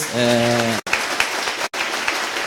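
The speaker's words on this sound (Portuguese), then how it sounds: "uma salva de palmas para eles" Audience applause at the launch event of the Ágora Tech Park project after a panel, a dense, steady wash of clapping that follows a brief harmonic tone and runs with two short breaks.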